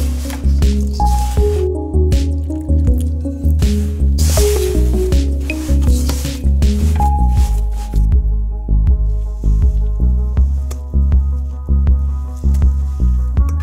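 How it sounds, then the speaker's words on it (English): Wet dyed concrete is mixed by hand, giving repeated squelching, squishing sounds at a steady rhythm, heard close and loud with a musical backing underneath. "I also found mixing with my hands a bit easier."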